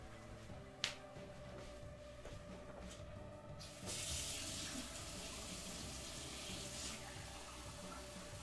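Water runs from a tap for about three seconds as a steady hiss, fairly close, after a quiet room with a single sharp click near the start.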